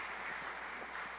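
Brief, fairly faint applause from a church congregation, a steady patter of many hands clapping at once.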